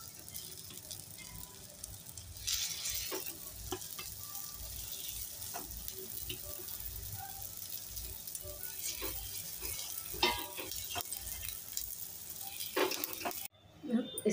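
Litti, the Bihari dough balls, cooking on a low flame in a kadhai, giving a soft continuous sizzle with light scraping and stirring clicks throughout, fairly quiet and close, ending with a brief cut and clatter.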